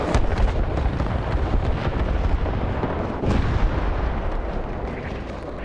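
M163 anti-aircraft gun firing at a Horten jet in a video game, a dense continuous rumble of rapid shots and booms, loud and unbroken.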